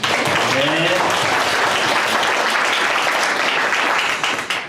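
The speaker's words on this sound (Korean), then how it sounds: "Let's give a big hand for God for letting us have Easter service together." A church congregation claps during an Easter service, steady and loud throughout with a sustained wash of many hands and a brief voice early on.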